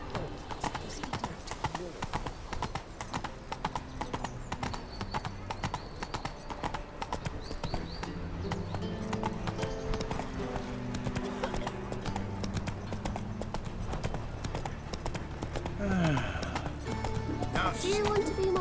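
Horse hooves gallop in a steady, rapid clip-clop through The Witcher 3 video game, continuous and prominent throughout, with voices talking over the hoofbeats and a brief whinny near the end.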